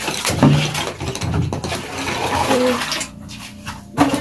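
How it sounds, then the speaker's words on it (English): Water pours and splashes into a saucepan being rinsed for washing at an outdoor village cooking spot, a steady rushing wash with clatter, fairly loud and close. "Then the saucepan, she's gonna pour in water so that it can be easy"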